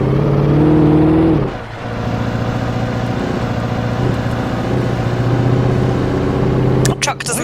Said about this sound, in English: Truck doesn't sound very healthy.